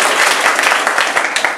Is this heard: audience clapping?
yes